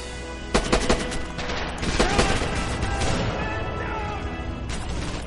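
Rapid bursts of gunfire in the video game Red Orchestra 2 crackle loudly, several sharp volleys in the first two seconds, then a steady dense rattle of shots continuing throughout.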